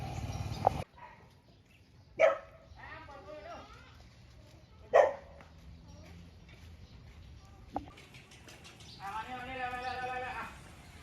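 Dogs bark in a few loud, sharp bursts spaced several seconds apart, with people talking in between and a higher whining yelp near the end.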